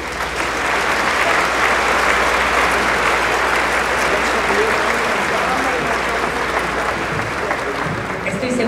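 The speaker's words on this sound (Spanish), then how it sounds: "Yo les pediría a todos un gran aplauso a Félix de Moya" Steady, dense applause from a large seated audience at an academic presentation in Spanish, continuous and fairly loud for the whole stretch with no pauses.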